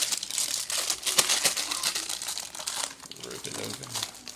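A plastic bag crinkles as a replacement lithium-ion battery for a Sony GTK-XB60 speaker is pulled out of it, making close, continuous rustling with some louder crackles.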